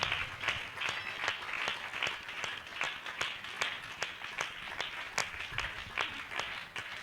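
A church congregation claps at a pastor's gathering, a fairly quiet stretch of distinct, rhythmic claps repeating at an even pace, with no speech over it.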